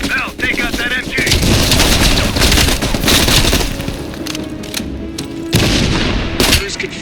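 Machine gun fire in the Call of Duty Black Ops Cold War realism campaign, loud dense bursts of battlefield gunfire and booms running through the whole stretch, with game voices mixed in.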